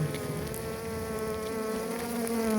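A colony of bees living under rocks gives a continuous, dense buzzing hum, steady and fairly close throughout, with no voices.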